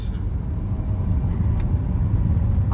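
A car drives along a road in Italy on the way to a beach, giving a steady low engine and tyre rumble from inside the vehicle with no break.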